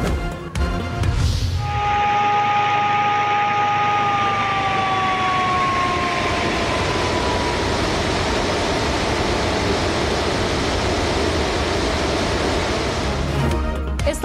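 Warning sirens sound over the opened spillways at Rawal Dam in Islamabad, a wailing tone sliding slowly downward in pitch above a constant roar of rushing water, with no voices.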